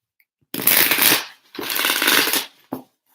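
Tarot cards are riffled and shuffled in two long crisp bursts, close up, followed by a short final flick.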